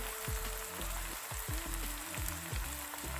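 Seasoned eggs fry in a pan with a dense, continuous crackling sizzle and scattered pops and spits, close and steady throughout, with no one talking.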